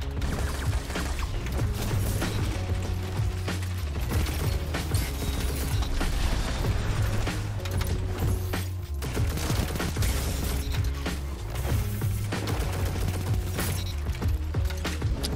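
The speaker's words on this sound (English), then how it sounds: "This auto rifle is still just kicking ass though." Seventh Seraph Carbine auto rifle in Destiny firing in long continuous bursts, dense rapid mechanical clatter layered over game music and effects, steady and loud throughout.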